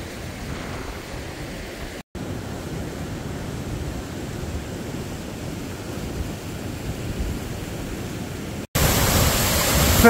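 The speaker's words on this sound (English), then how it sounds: "shows you what 2 hours rain can do. Bring this little brook into full spate." A small brook swollen into full spate after two hours of rain in the Lake District rushes steadily as a loud, continuous broadband roar, with brief dropouts and a harsher burst of water noise at the end.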